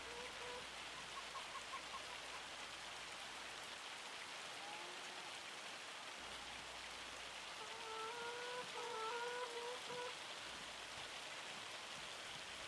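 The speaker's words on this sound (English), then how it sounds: "It's just hailing." Steady hailstorm in Farming Simulator 25, a constant close wash of pattering ice on the ground, with faint chirping calls appearing here and there over the roar.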